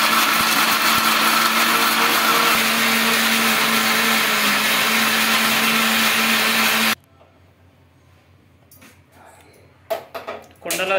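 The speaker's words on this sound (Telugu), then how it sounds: "ఇప్పుడైతే పేస్ట్ అయితే పట్టేస్తున్నా" A mixer grinder whirs loudly and steadily as it grinds onion, tomato and dry coconut into a paste, then cuts off after about seven seconds, leaving quieter clinks and handling noises.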